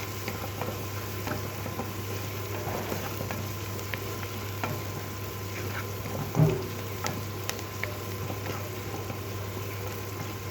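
Chopped tomato and grated carrot fry in a pan for carrot rice, giving a soft, steady sizzle with faint crackles and one brief clink, quiet and without talk.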